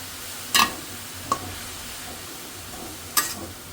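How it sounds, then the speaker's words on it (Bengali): Greens frying in a pan with salt and green chilies, a soft steady sizzle broken by three sharp metallic scrapes or clinks of a spoon against the pan, no talking. "শাকটা আমি ভেজে শাকের মধ্যে লবণ আর কাঁচামরিচ দিয়ে দিছি"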